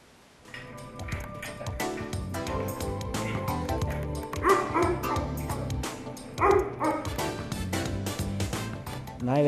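Many dogs bark and yip at once inside an animal shelter, a dense, overlapping chorus of sharp barks with some whimpering, loud and close, continuing steadily after a brief quiet start.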